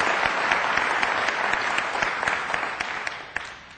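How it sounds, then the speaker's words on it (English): A church congregation claps in a steady, dense round of applause that carries on throughout and fades a little toward the end. "Why don't you give her a round of applause?"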